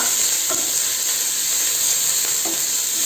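Small chicken pieces stirred in a hot pan, a constant loud sizzle with a few soft scraping strokes of the spoon, close up and without any talking.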